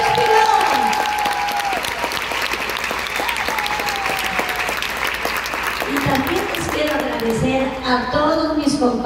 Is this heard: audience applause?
yes